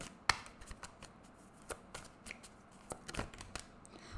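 Tarot cards being shuffled during a love reading, giving quiet, irregular papery flicks and riffles with one sharper snap near the start, close and soft with no talking.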